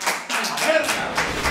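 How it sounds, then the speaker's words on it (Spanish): Audience at the Premios Coronas 2021 awards ceremony claps for the winners, a dense burst of applause that is loud and close and runs steadily through the short moment. "¡Un fuerte aplauso!"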